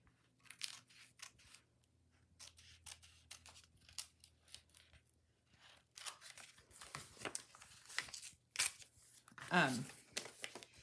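Scissors cut through a paper envelope being upcycled into a note holder, giving close, quiet snips and paper rustles that grow busier and louder toward the end, with no talking.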